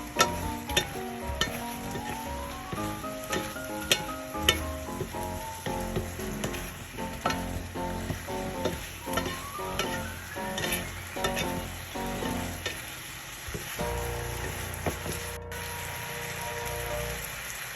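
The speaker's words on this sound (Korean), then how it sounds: "튀긴 장어를 넣고 양념장을 골고루 묻혀주세요" Fried eel is tossed in sauce in a sizzling pan with a long, steady crackle, repeated clinks and scrapes of a utensil, and soft music playing underneath.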